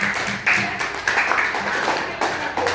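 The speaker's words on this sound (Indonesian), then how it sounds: "beri tepuk tangan untuk teman-teman kalian semuanya" A class of sixth-grade students claps for their classmates, a moderate patter of hands in the classroom with short uneven surges of louder clapping.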